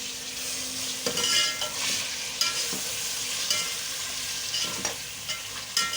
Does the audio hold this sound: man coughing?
no